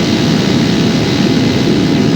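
A Fly Products Eclipse 150cm engine at full throttle, around 9230 RPM, drones steadily and loudly, a constant close-up roar with no break throughout.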